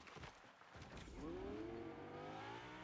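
A video game car accelerates, its engine note rising in a revving sweep before holding a steady drone, fairly faint and heard without speech.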